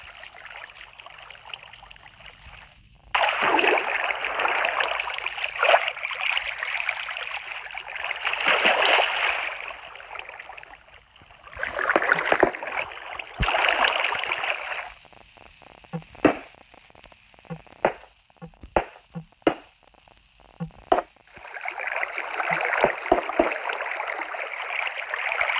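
A built waterfall in Minecraft rushes in bursts of splashing, flowing water that grow loud, fade, return with scattered short splashes, then swell again, with no voices.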